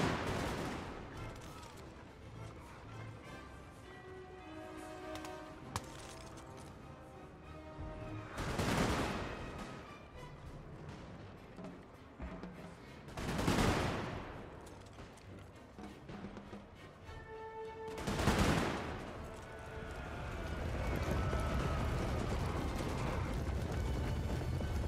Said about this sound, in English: We're reloading, taking some shots from their own grenadiers.